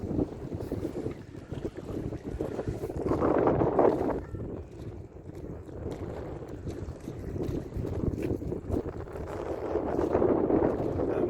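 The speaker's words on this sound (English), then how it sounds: "And the wind's piping up." Wind gusts buffet a sailing boat on a mooring near Swanage, with surges of rushing air and microphone rumble swelling and easing, and water lapping against the hull underneath.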